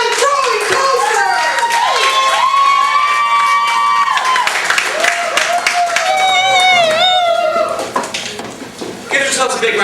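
A comedy club crowd at the Ice House Annex in Pasadena, California, claps and cheers loudly, with dense applause, high whoops and shouts rising and falling before thinning out near the end.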